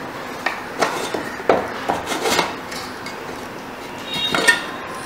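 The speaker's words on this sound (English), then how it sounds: "So I have removed the cooker from the gas and now we will open it." A metal pressure cooker, just taken off the gas after cooking potatoes and whole moong dal, is handled and opened: scattered clinks and scrapes of the lid against the pot, close by, with no talk.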